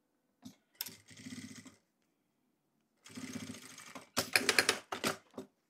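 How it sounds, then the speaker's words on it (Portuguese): A sewing machine running a quick safety stitch on a transparent waterproof travel pouch, in short bursts of rapid mechanical stitching separated by pauses, close and clear. "Passo primeiro uma costurinha de segurança."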